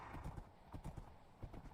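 Steady clip-clop of a horse's hooves at a walking pace in a video game, fairly quiet and even, with a faint low rumble underneath and no voices.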